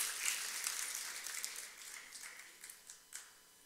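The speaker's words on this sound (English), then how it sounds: "Johnny, would you please stand and receive a well-deserved round of applause." A lecture audience applauds quietly, the soft, distant clapping thinning out into a few scattered individual claps near the end.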